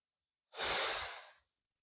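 A single deep, breathy exhalation lasting about a second during a morning meditation and deep-breathing exercise, close and fairly loud, rising quickly and then tapering off into silence.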